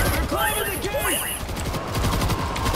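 Rapid gunfire from the zombie shooter video game World War Z, loud bursts overlapping with excited players talking over the shots.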